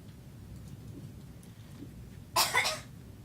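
One person gives a short, sharp double cough close to the microphone, standing out above a quiet, faintly noisy room.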